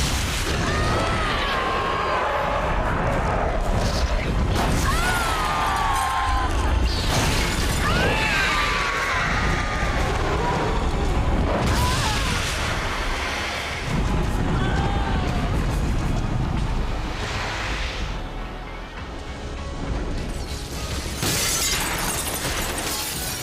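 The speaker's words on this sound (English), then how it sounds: "she lets out her death moan and then smashes the glass house to pieces before falling and sinking into the ground" A glass house shatters to pieces in the Batman Arkham Asylum video game. Loud crashes and bursts of breaking glass recur over a turbulent rumble with scattered creature-like cries.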